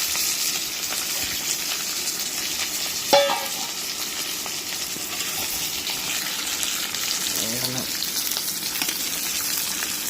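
Chicken with onion and green chili frying in a pan: a continuous bright sizzle with occasional scraping stirs and a couple of brief clanks, moderately close.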